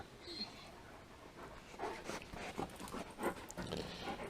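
Dogs pant quickly and breathily close by, rapid rhythmic huffs with faint whimpers and rustling, while a person speaks softly to them over it.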